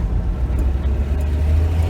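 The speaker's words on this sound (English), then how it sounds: "it goes through its series of gears pretty quickly for fuel economy reasons. And you'll kind of hear this when I take off" A 1966 Dodge Dart GT with an automatic transmission pulls away, its low, steady engine drone rumbling close by, with no clear shift breaks audible in this short stretch.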